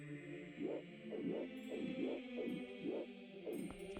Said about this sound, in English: Sounds like this Song of Time.